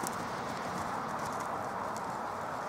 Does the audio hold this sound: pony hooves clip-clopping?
yes